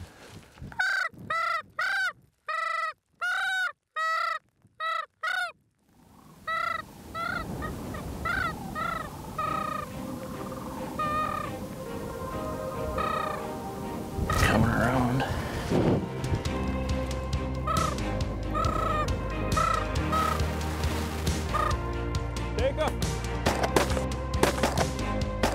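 Geese fly in low over hunters on the Saskatchewan prairie, their loud, close honking calls coming in rapid bursts at first, then spreading into a dense, overlapping chorus of calls and wing noise that carries on throughout.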